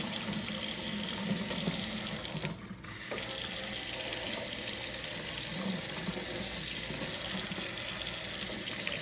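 Steady rush of water running from a tap into a sink, continuous and fairly loud, with a brief dip partway through.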